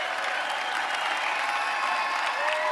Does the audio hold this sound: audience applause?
yes